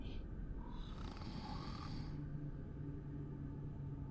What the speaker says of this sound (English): I hear someone loudly snoring.